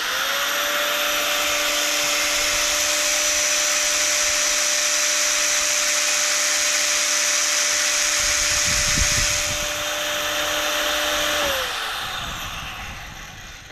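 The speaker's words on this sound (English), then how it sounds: "What have we got now? Angle grinder." Angle grinder running off a 2000 W solar inverter with a 500 A battery bank, its steady high motor whine loud and continuous for about eleven seconds before spinning down as it is switched off.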